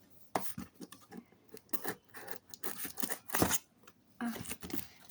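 Scissors snip and rasp through the plastic packaging of a journal art kit close by, in uneven bursts of cutting and crinkling with pauses between strokes.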